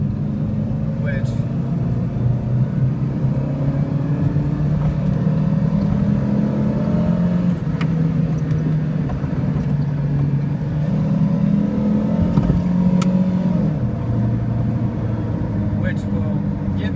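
A car with a 3-speed automatic transmission drives along, its engine drone rising and dropping as it shifts through the gears, with a steady road rumble and someone talking over it.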